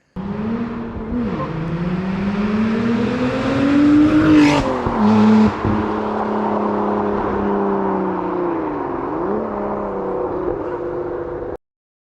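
A Lotus Emira with a Larini race exhaust revs repeatedly, its pitch climbing and falling in long sweeps up to the 6,800 rpm rev line, with a supercharger-like flutter. The sound is loud and close, with no talking.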